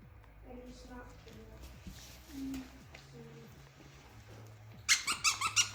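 A German shepherd's thrift-store squeaky bear toy squeaks in a quick burst of five or six sharp, rhythmic squeals near the end, after a stretch of people talking over quiet room noise.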